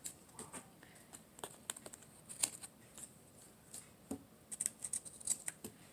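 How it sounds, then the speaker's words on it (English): Quiet, crisp snips of scissors cutting, a scattered series of short clicks with no talking. "just take your scissors and cut off the edges"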